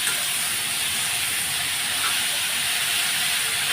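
Papaya frying in a pan, a loud, continuous dense hiss of sizzling oil close up, with no clear stirring strokes.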